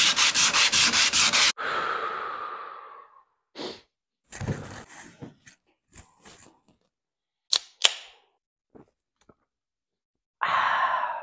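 A truck bed sanded by hand with sandpaper: a long steady rasp, then a shorter rubbing stroke, followed by scattered light scrapes and taps and a final short rubbing pass, close and fairly loud with no talk.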